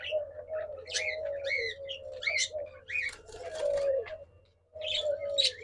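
Diamond doves at a dove farm give soft, repeated cooing calls, close and fairly quiet, with brief chirps layered over a faint low background hum.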